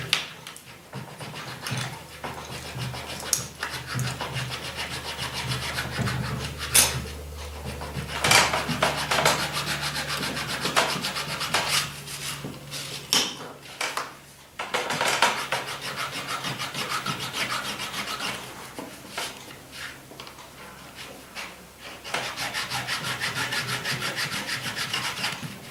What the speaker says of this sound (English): just like to file them off.